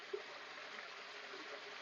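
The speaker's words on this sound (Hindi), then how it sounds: "अभी तो फिलहाल झरना गिर रहा है" A small waterfall trickling down at a sacred Shiva temple site where sages meditated, a faint, steady distant rush of water, continuous and even, with no voices.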